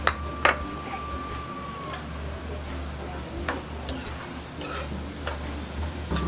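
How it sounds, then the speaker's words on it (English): Chopped vegetables and habanero pepper sautéing in olive oil in a Haitian home kitchen, a steady low sizzle with a few stirring clicks and utensil taps, close and moderate in level. "we're gonna saute what we chopped before"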